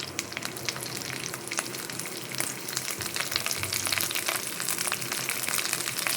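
Curry leaves frying in hot coconut oil in a pan for a Mangalore village-style prawn curry, a continuous close crackling sizzle with sharp pops throughout.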